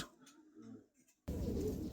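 Pigeons cooing on a pigeon farm, soft low calls in the first half, then a sudden loud burst of dense noise from the flock or handling close by.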